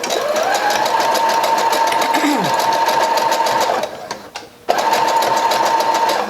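A sewing machine stitches a headband wig with a fast, even mechanical whir close by, briefly pausing before resuming at the same steady pace.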